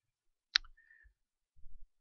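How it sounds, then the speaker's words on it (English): A single sharp computer mouse click, close and quiet, followed by faint soft handling noises in an otherwise silent room. "And so I'm going to right click"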